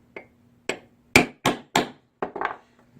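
Six sharp hammer strikes ring out on a metal spoon blank, knocking a small divot into a flutter trolling spoon, spaced irregularly with short pauses between blows, close and clear with no talking.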